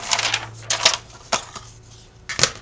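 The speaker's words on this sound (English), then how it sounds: "you just cut your packaging down" Several crisp snips and crunches of scissors cutting through cardboard, close by, in short irregular bursts with quiet gaps between.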